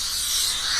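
A steady, bright electronic hiss, even and unbroken, with no voices.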